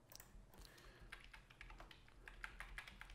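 Typing on a computer keyboard, a quick run of close, crisp key taps with a few sharper clicks toward the end, heard alone over a quiet hum.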